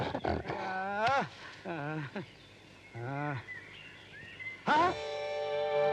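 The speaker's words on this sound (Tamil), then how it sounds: "ஐயோ கரடி" A bear roars in a Tamil comedy film scene: several loud, sweeping, wailing roars in separate bursts, ending in a long, strong cry.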